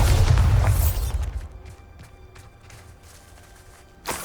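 A Bombarda blast spell in the Hogwarts Legacy video game goes off with a loud, deep boom that fades into a quieter rumbling tail, followed by a second sharp burst near the end.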